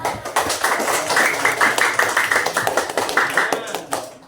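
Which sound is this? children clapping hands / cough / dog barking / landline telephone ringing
children clapping hands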